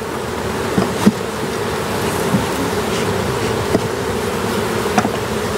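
Honey bees in a queen mating yard drone in a dense, loud, continuous buzz around open hive frames, with occasional single bees passing close in brief louder swells.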